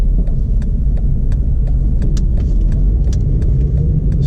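Road traffic rumbles at an intersection, a continuous low engine and tyre drone from nearby cars with faint clicks and rattles and no talk.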